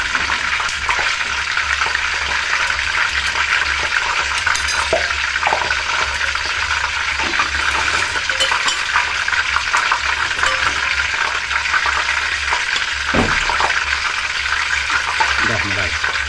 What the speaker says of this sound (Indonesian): Oke, sudah cukup, kita langsung goreng saja.